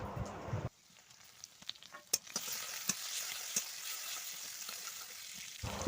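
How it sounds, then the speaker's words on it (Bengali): Garlic frying in oil for a singi fish curry: after a short lead-in, a close, crackling sizzle takes over with sharp spattering pops and stirring clicks, steady to the end and without talk. "আর এখন আমি দিয়ে দিয়েছি তেলে একটু ভাজা হওয়ার জন্যে"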